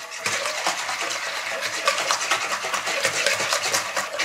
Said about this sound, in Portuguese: vou bater esses ovos